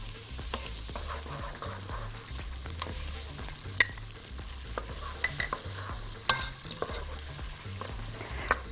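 Ghee goes into a hot pot of oil and onions while rice is being cooked, giving a steady close sizzle with frequent scraping stir strokes and a few sharp clinks, with no talk.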